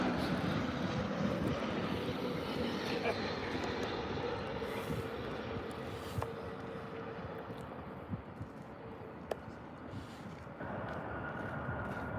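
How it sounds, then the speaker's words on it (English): An Emirates Airbus A380 landing at Birmingham airport gives a loud, steady jet roar that fills the whole stretch, with some wind buffeting the microphone. "Just seen an Emirates A380 landing"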